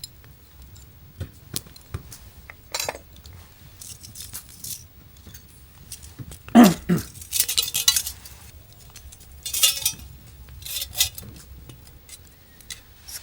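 Metal parts of a Snow Peak camping burner click and clink while being fitted together at a campsite, with scattered light taps and a few sharper rattling bursts between quiet pauses, close by.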